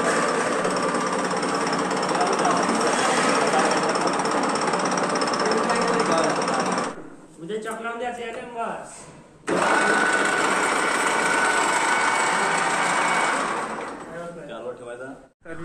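A repaired lathe machine runs with a loud, steady mechanical roar, cuts out for a few seconds while someone speaks, then starts up again and runs on before winding down.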